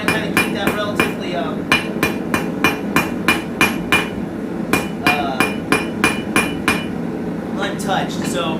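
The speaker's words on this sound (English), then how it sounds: "We're going to continue to hit the edges a little bit, try not to hit your anvil." Steady rhythmic hammer blows ring on a forged steel leaf resting on an anvil, about two strikes per second with sharp metallic clanks, a short pause, then more rapid blows.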